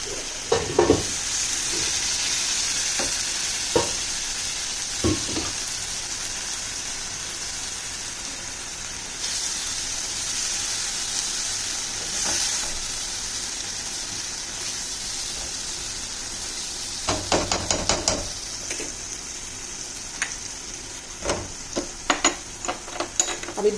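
Masala spices sizzle and fry in a pan with a little water added, a steady hissing simmer punctuated by scraping clinks of a spoon stirring, louder taps clustering near the end.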